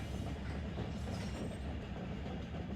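BNSF ES44DC diesel locomotives hauling a high-priority intermodal freight in Run 8 Train Simulator, a steady low rumble of engines and rolling wagons with faint clickety-clack, continuous and fairly quiet with no talk.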